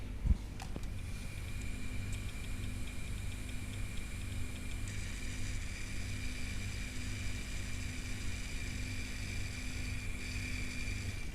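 A Seagate Cheetah 450GB hard drive running a benchmark hums steadily with a high whine and faint ticking seek clicks, close and continuous with no talk.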